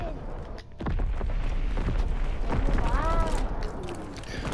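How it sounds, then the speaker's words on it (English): Shotgun blasts in Call of Duty WWII combat, several loud booming shots amid ongoing gunfire and chatter, with someone talking over the battle. "Oh yeah, the shotgun."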